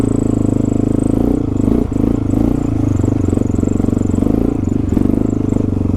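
Honda XR650L single-cylinder engine lugging at low revs up an off-road climb, a steady, loud, close thumping drone with a brief dip partway through and no talk over it.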